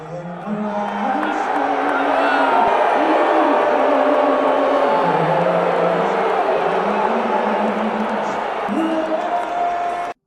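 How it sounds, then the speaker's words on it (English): A large crowd at Madison Square Garden in New York loudly booing through the national anthem, a dense, sustained roar with drawn-out tonal voices rising and falling over continuous crowd noise for the whole stretch. "They were booing this man"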